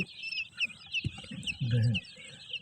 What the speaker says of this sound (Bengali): আজকে দেখাবো কয়েল পাখির বাচ্চা